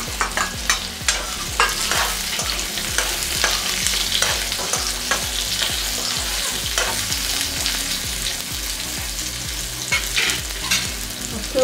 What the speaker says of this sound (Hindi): हल्का सा भुनने के बाद हम आम के टुकड़ों को डाल देंगे इसमें।